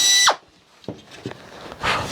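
Power drill countersinking into a 2x4: a short high whining burst that drops off quickly, followed by a few faint knocks and a final rising buzz.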